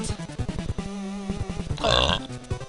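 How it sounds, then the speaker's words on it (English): A single drawn-out belch from someone playing the Base Wars video game, about two and a half seconds long with a rough, voiced, gurgling quality, close and moderately loud, with no other voices. "pardon me for the belch"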